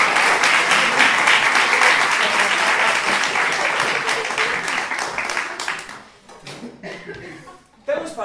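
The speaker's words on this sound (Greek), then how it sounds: "θέλω χειροκρότημα" A theatre audience applauding during a Greek murder-mystery stage play, loud dense clapping mixed with some laughter that fades after about six seconds into quieter room sound and a brief voice.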